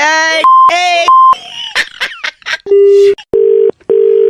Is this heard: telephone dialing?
yes